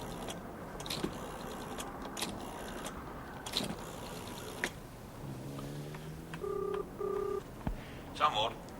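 A telephone is dialed at home: a series of short key-press tones, steady and close, following faint clicks and handling sounds, with a quiet background and soft movement.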